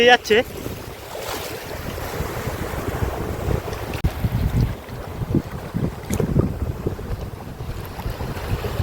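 Waves slap against a fishing boat with nets out on the Matla river in the Sundarbans, irregular splashes and water wash under steady wind buffeting the microphone, fairly loud and close.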